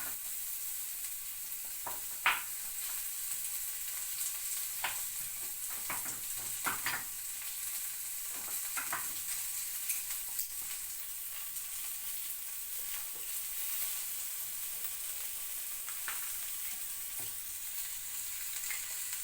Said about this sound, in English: We're going to add our minced garlic.